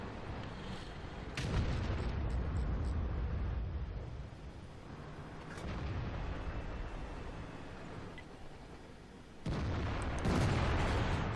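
Heavy IS3 tank cannon shots in World of Tanks, with deep booming blasts near the start, the middle and the end, each followed by a rumbling tail over a continuous engine drone.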